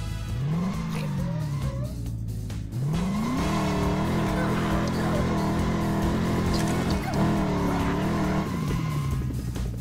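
Cartoonish engine revving and accelerating in the LEGO 2K Drive racing game, a less top-of-the-line car with rising and falling pitch sweeps and a tire squeal, loud and continuous against a busy game soundtrack for about ten seconds.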